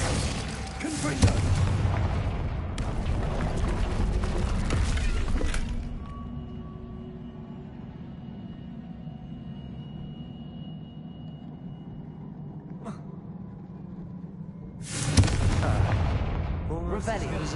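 Loud, rumbling blasts from the Confringo fire-blasting spell in the Hogwarts Legacy video game, a heavy booming burst at the start, a quieter low hum in the middle, and another sharp explosion near the end.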